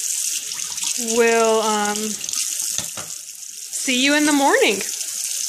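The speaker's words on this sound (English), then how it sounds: "sorry if this water's really loud. I'm trying to get that yogurt off, or the milk off of that thermometer." Running tap water rinsing milk off a thermometer at a kitchen sink, a steady hissing stream heard under a person talking in two bursts.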